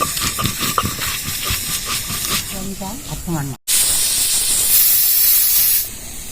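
A pressure cooker cooking chana dal with young jackfruit lets off a loud, sustained steam whistle and hiss for the last few seconds, after softer kitchen clatter.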